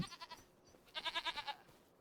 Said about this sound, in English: brand new baby goats out here on the farm.